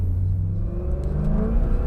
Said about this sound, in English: out on the road now in the cheapest Maserati Coupe in the USA